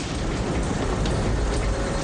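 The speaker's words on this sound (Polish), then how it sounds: "Ulewa nie słabnie" Heavy rain pours down in a steady, dense roar, loud and continuous with no voices.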